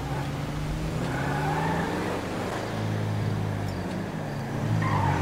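Car engine in a chase in the video game GTA 5, a continuous loud engine note that rises and falls as it revs and strains, heard alone with no talk.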